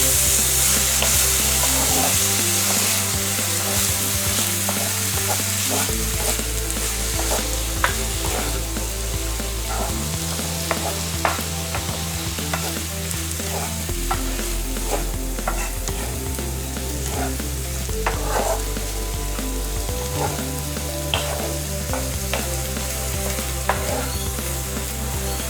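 Noodle toppings with garlic and shallots fry in a wok for special bakmie goreng, a continuous sizzle over a low steady burner hum, punctuated by sharp spatula clacks and scrapes against the pan.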